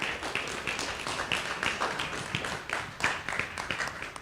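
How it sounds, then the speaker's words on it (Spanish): Brief applause from an audience at a technology talk on parallel computing, scattered, fairly faint claps with a loose uneven rhythm, no speech over it. "Un aplauso, por favor, para ella."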